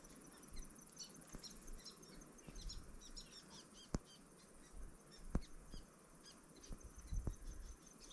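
Faint bird chirps and calls sound intermittently over a quiet outdoor background with a soft insect-like buzz and a few sharp clicks.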